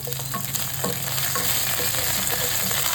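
Garlic and ginger frying in a pan, a dense continuous sizzle with occasional stirring scrapes, close and steady throughout.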